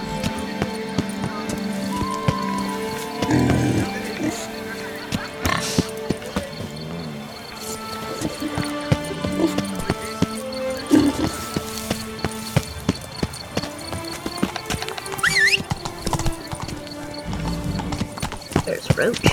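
Hooves of a horse in The Witcher 3 video game clip-clop in a steady rhythm across a busy game soundscape with music, with a possible whinny and someone talking over it.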